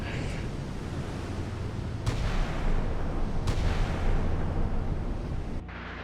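A volley of missiles launches in the naval combat video game Sea Power, heard as a continuous low roar of rocket exhaust with two sharp launch bursts, fading abruptly near the end.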